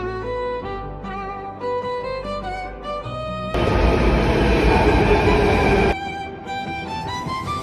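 A metro train roars loudly at a station for a few seconds, a steady broadband rush that rises and cuts off, set between stretches of soft background music.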